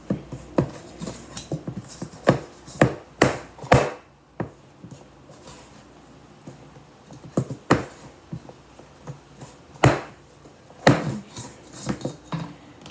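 A spoon stirs flour into thick cinnamon sugar blondie batter in a bowl, giving scattered, irregular clinks and scrapes against the bowl's sides, close by and moderately loud with quiet gaps between strokes.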